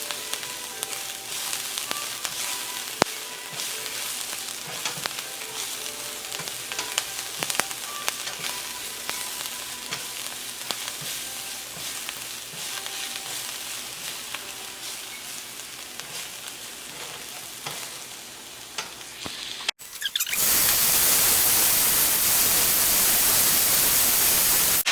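Garlic frying in a pan for chicken and broccoli Alfredo gives a steady, dense sizzle that crackles continuously for about twenty seconds before giving way to a harsher, louder hiss.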